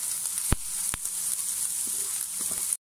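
Carrots sizzle in a frying pan with a steady bright hiss, while a couple of sharp knocks and faint clinks of utensils break through.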